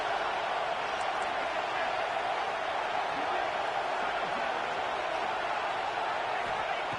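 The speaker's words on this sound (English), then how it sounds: "And here comes the noise. This crowd is trying to inspire this defense to make a big red zone stop." Football stadium crowd at a Baylor vs Notre Dame game roaring to spur the defense in a red zone stand, heard as a dense, steady wash of noise that stays loud throughout.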